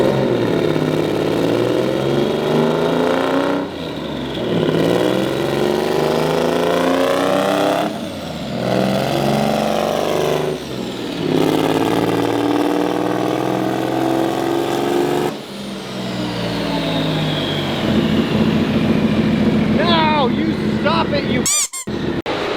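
A turbocharged EG33 Subaru WRX STI on a dyno at full throttle, loud engine revs climbing repeatedly in several long pulls with brief drops between them, ending in sharp clattering bursts.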